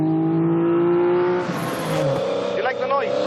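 A 400-horsepower rally Mini's engine revs hard with a loud, steady harmonic drone that shifts pitch and rises as it accelerates, joined by brief whirring and tire-like squeals near the end.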